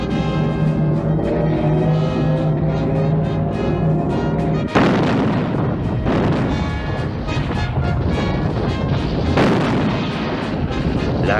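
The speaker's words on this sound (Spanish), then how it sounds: "La artillería aumenta continuamente sus efectivos y mejora sus técnicas." Artillery fire in the Spanish Civil War, heard as a dense, continuous roar with heavy booms and sharp bursts, loud and sustained throughout, with two especially strong blasts standing out.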